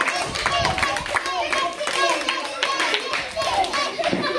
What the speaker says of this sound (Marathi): दोघांसाठी जोरदार टाळ्या